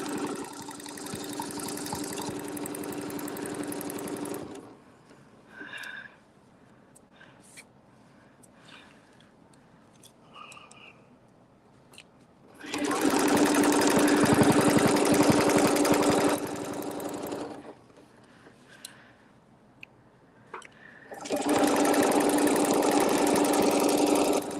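A sewing machine stitching fabric for a table topper quilt at a quarter-inch seam, running in steady motorized bursts of several seconds with quiet pauses and small handling sounds between them.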